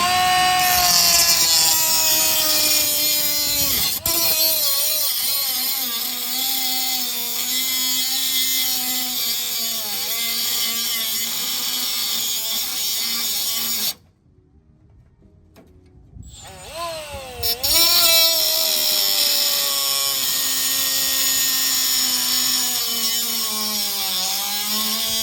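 Power tool cutting through the U-bolts on a 1999 Toyota Tacoma during a lift install, a loud continuous whining grind with shifting pitch, cutting out briefly partway and then starting up again.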